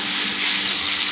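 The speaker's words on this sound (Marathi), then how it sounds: "गरम पाणी घालूया।" Hot water poured into a pan of potato curry, a short steady gushing pour, loud and close.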